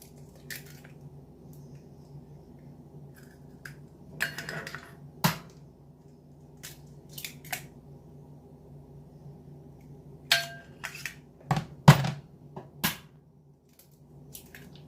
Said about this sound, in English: Crack it into your mixing bowl.